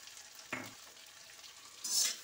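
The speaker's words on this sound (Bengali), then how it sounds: "একটু নেড়ে চেড়ে দিচ্ছি।" Shrimp with salt and turmeric fry quietly in a pan over medium flame, with a soft sizzle throughout and two brief scraping stirs, one near the start and a brighter one toward the end.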